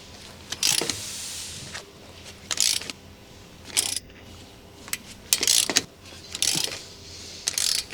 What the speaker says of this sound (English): Using the 19mm long socket with the extendable ratcheting wrench,